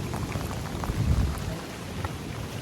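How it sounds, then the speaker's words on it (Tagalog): Heavy typhoon rain pounding on a house roof, a dense continuous roar with low rumbling surges and steady close patter, no voices. "Malakas ang ulan."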